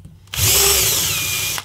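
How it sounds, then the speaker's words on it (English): A power drill fitted with a countersink bit bevels a hole in a prop-claw hand grip, one short, loud, whirring burst of about a second that starts and stops abruptly. "I've got a countersink on my drill. I can just go and zap that."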